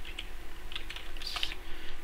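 Quick keystrokes typing a git command on a computer keyboard, a close, irregular run of light clicks lasting about two seconds.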